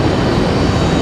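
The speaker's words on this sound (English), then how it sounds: "Looks like our next arrival might be American Airlines 1897 coming in from Charlotte." An American Airlines Boeing 737-800 jet arriving at Raleigh-Durham International Airport, heard as a loud, steady engine roar with a broad rushing sound.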